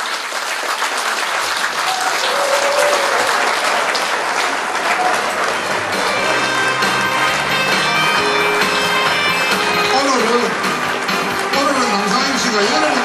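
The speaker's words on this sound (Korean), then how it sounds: "여러분 박수 한번 칩시다" An audience welcomes a saxophonist with sustained, dense applause filling the hall from start to finish, loud and continuous, with voices briefly audible beneath it.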